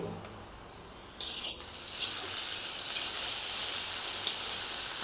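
Chili chicken sizzles in a hot pan, starting softly and then swelling into a steady loud frying hiss after a brief clatter, with a few light spatters and no talking.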